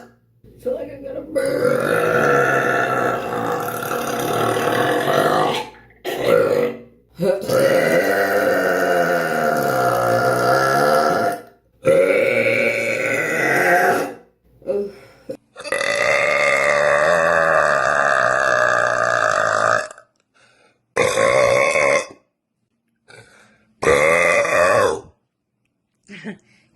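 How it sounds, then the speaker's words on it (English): A young blonde woman lets out a long series of big, drawn-out burps one after another, loud and close, with short pauses between them and a few briefer belches at the end. "You ready for some burps?"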